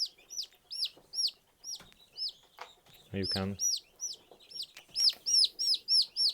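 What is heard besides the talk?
chickens clucking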